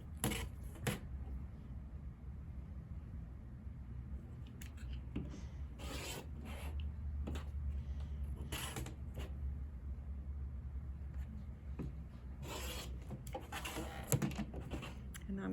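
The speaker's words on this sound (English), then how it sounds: "I'm going to cut it on the marked line." Fabric being cut along a marked line for a quilt sampler block, a steady soft rasping and scraping at close range with a few sharper snips and rustles, and occasional faint voice.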